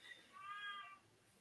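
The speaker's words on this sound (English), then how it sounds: "That's my cat." A house cat gives a single drawn-out meow indoors, faint but clear, rising and falling in pitch over about half a second.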